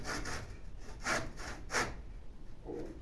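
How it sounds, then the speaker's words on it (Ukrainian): Hand saw cutting through a soft, pulpy papaya trunk in slow, rhythmic strokes, about four rasping passes, close by with no talking. "я, мабуть, підпиляю трошки отак"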